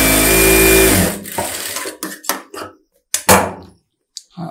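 A sewing machine stitches a folded quarter-inch hem on blouse fabric in a close-neck blouse tailoring lesson, running loud and fast for about a second, then stopping amid scattered handling clicks and fabric rustles.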